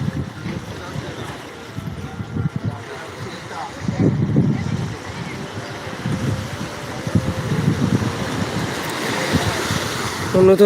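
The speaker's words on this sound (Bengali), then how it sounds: "সমুদ্র সৈকতে ফুরফুরে হাওয়া বইছে" Wind gusts and rolling surf at Digha beach rumble in uneven surges, buffeting close and loud, with muffled voices mixed in at times.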